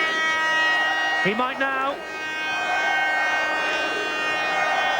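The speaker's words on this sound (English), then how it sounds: "The referee has not heard the half-time siren." A sustained, steady stadium half-time siren drones over crowd noise at a 1996 Paris versus Sheffield match, with someone speaking briefly partway through.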